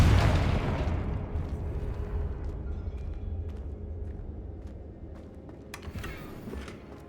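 A Confringo spell explodes in Hogwarts Legacy with a loud, broad boom at the start that rumbles on and slowly fades, a few faint clicks and game sounds scattered over the decay.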